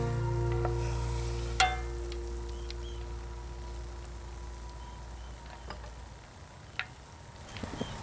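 Ghee of clarified butter simmers steadily in a pan with foam rising on top, giving a low, continuous sizzling bubble, joined by a sharp tick or tap now and then, with no talking.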